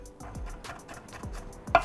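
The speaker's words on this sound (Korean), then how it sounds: "마지막으로 마늘은 빻아주세요" Garlic cloves are crushed in a home kitchen while shakshuka is being made: a run of about eight sharp, close knocks in an uneven rhythm, the last one louder, with no talking.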